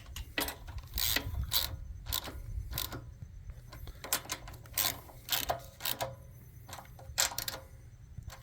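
Carburetor mounting nuts on a small engine are snugged up by hand with a ratchet, giving quiet, irregular clicking bursts close by over a low background hum.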